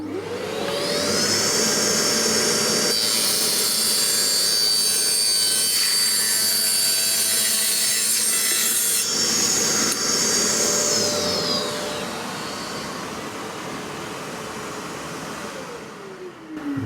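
A power saw rips a strip just under 32 mm wide off a board, its loud whining motor steady for about eleven seconds before winding down and fading, close by with no talking.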